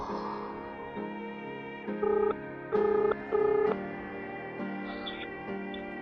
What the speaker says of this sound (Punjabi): ਐਵੇਂ ਫੋਨ ਲਾ ਕੇ ਦੇਖਾਂ